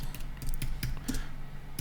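Fingers type a folder name on a computer keyboard, a close run of quick, light, uneven key clicks.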